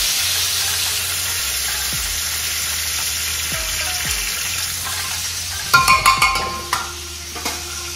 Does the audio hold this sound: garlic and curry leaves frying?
yes